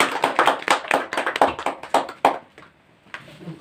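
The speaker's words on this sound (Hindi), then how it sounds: "चलिए जोरदार ताली बजाइए इसको लिए" Audience claps at a prize distribution ceremony, a quick run of sharp, close hand claps about three seconds long that stops abruptly, leaving near silence.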